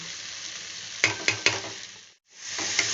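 A spoon stirs spice powders into a half-cooked dish in a pan, with three sharp scraping knocks and a soft sizzle, then a brief silence before the frying hiss returns.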